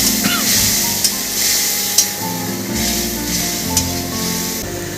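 Spiced masala for dhaba-style paneer fries in a pan with a splash of water, crackling and sizzling steadily up close while a spatula scrapes and stirs at intervals, with no voices.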